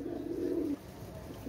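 Saharanpuri Kalshira pigeons, long-necked birds with white beaks, coo in a low, rolling phrase that swells for most of a second, then fades to a quieter hum.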